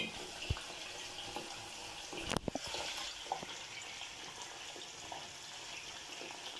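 Soaked soya chunks squeezed by hand to press out hot soaking water before frying for a soya dum biryani; quiet, close trickling and dripping water with a brief splashing gush partway through.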